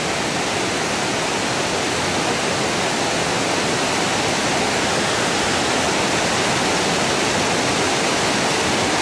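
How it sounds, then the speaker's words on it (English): Powerful waterfall rushing, heavy water pouring over the falls in a steady, loud, broadband roar that holds unchanged throughout, with no voices. "That is some serious water power going over that falls"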